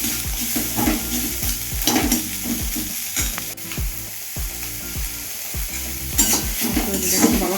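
An egg fries in a little oil with a steady, close sizzle, and a utensil scrapes and taps the pan in a regular rhythm.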